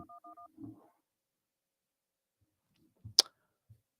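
Several short telephone keypad beeps from a call-in line where pressing 1 accepts a caller, followed by quiet, a faint thump and one sharp click.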